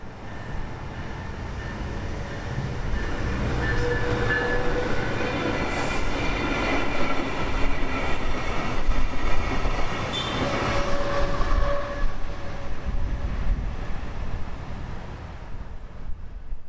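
A southbound Brightline train, BLF 725, passes a road crossing at Okeechobee Boulevard in West Palm Beach, South Florida, with a loud, sustained rumble of cars rolling by, faint wheel squeals and some wind buffeting. No one speaks.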